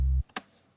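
A deep, booming synth sub bass tone sustains for a moment and then cuts off abruptly, followed by a couple of faint clicks.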